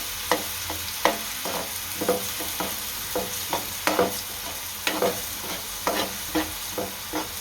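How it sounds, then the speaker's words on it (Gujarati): Chopped onions dropped into hot oil for Gujarati sev usal, giving a steady sizzle with repeated scraping stirs and clicks of a spoon against the pan, moderately close, with no voices. "આપણું ગરમ થઈ ગયું છે તો આ કાંદા નાખી દઈશું તેલવી નાખશું"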